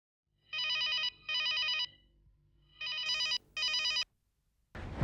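An old-style telephone bell rings loudly at night in a home in an Indian television serial, two double bursts of ringing separated by pauses, then a clatter as the receiver is picked up; no one speaks.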